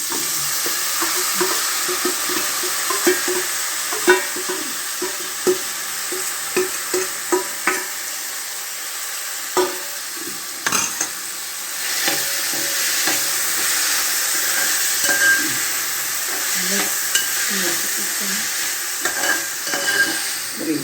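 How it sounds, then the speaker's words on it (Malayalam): Cooked papaya with green chilli, turmeric and salt sizzles and fries in a pan while a spoon stirs it, with a steady hiss broken by repeated scraping and clinking strokes, no voices. "ഇനി കപ്പങ്ങ പച്ചമുളകും മഞ്ഞളും ഉപ്പും ചേർത്ത് വേവിച്ച് വെച്ചേക്കണേണ് അത് ഇതിലേക്ക് ചേർക്കണം"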